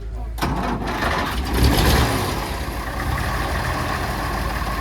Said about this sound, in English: is a 1938 Leyland Cub. This is one of the buses they have at the museum